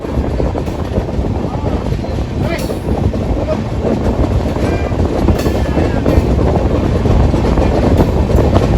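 An electric-hauled express train, the Lalgarh-14703 Express between Mathura and Jaipur, rushes past on the neighbouring track with a continuous loud rumble and roar that holds steady throughout, heard close from inside a sleeper coach with wind noise.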